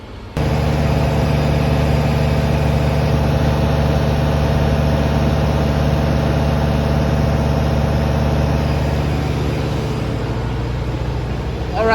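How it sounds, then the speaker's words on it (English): A Carrier A41 reefer unit's diesel engine runs at high RPM, a loud, steady, unbroken drone with strong low harmonics that holds level for the full twelve seconds. "it's revving at high RPM"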